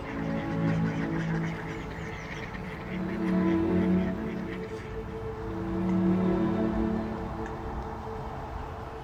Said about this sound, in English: And I do love these little tufted ducks.